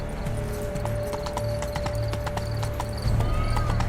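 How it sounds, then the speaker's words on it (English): Hooves of a unicorn mount in The Witcher 3 video game clip-clop in a steady walking rhythm, close and clear, over a constant background hum and ambient game sounds. "This horse isn't very fast."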